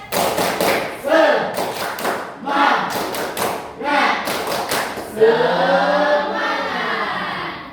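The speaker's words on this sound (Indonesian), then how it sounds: "kita tepuk semangat dulu dah" A group performs a tepuk semangat spirit clap in a classroom setting: bursts of sharp, rhythmic hand claps in patterned sets, followed by voices chanting together in unison.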